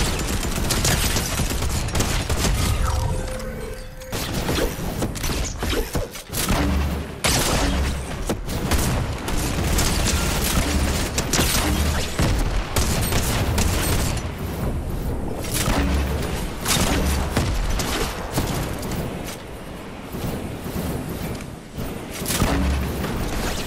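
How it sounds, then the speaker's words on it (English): Heavy, booming grenade launcher blasts and scattered gunfire in a Fortnite match, loud and continuous for over twenty seconds, with dense overlapping explosions and brief lulls. "the grenade launcher is so good"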